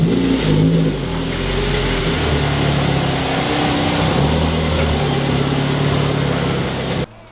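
A Mazda 3 engine runs outdoors, with a steady mid-pitched drone that rises briefly as the car pulls out, then settles into a continuous hum until it cuts off abruptly at the end.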